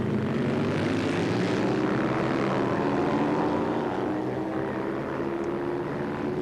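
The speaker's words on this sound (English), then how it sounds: "It's a amazing how much noise, or how different the noise is that these twins make compared to four-cylinder bikes and two-stroke bikes." Four-stroke twin-cylinder racing motorcycles, including a Kawasaki 750, roar past at a 1984 street race, making a loud, continuous engine drone whose pitch slowly falls, with no talking.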